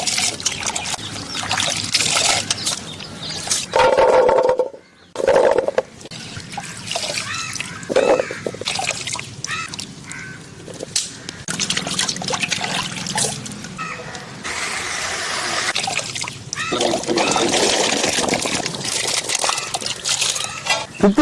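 Water trickles and splashes in uneven bursts as native jamun fruit is washed outdoors in a village kitchen, close and fairly loud, with occasional faint voices in the background.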